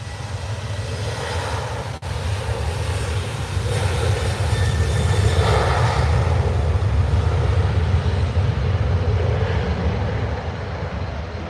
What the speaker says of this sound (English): Waiting for this 737 MAX who's just put his foot down.